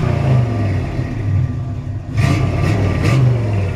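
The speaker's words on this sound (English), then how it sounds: "It's got brand new Flowmaster exhaust." A 1962 Chevrolet Impala with a low-mileage crate engine and new Flowmaster exhaust idles with a deep, close rumble, then revs sharply several times in quick succession, alone and loud.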